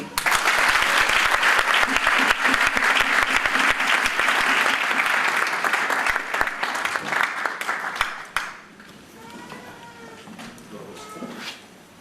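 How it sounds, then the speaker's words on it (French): Church congregation applauding and cheering as a pastor is welcomed, dense loud clapping with voices for about eight seconds, then it drops away and leaves quieter murmuring and faint voices. "Je vais inviter le pasteur Alain sous vos acclamations."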